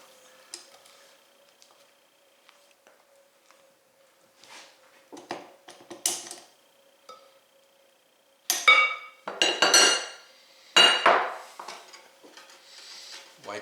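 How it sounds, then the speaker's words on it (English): A spatula scrapes down a mixing bowl of chocolate mayonnaise cake batter, giving a few scattered soft scrapes followed by louder clinking, knocking strokes against the bowl near the end, close by and with no talk. "another spatula and just scrape down the bowl"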